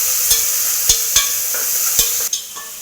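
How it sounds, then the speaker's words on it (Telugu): Fenugreek, mustard seeds and cumin fry in hot oil in a pan for tempering, a close, constant high sizzling hiss punctuated by half a dozen sharp spoon taps and stirring clicks. "ఈ గోల్డెన్ కలర్ వచ్చేలాగా వేపుకోవాలి"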